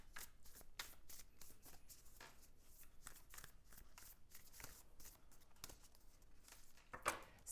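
Tarot cards are shuffled close up in a quiet room, giving a run of soft, quick riffling and flicking bursts, each followed by a brief pause, with no talking.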